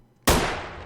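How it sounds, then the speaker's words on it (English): A single sharp gunshot in Vampire: The Masquerade - Bloodlines, set in an old hospital, bursts loudly out of near-silence and then rings down through a long, reverberant tail. "Gunshots everywhere. Good lord."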